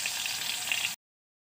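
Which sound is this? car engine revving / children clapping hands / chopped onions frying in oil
chopped onions frying in oil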